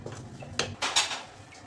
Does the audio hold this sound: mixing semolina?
yes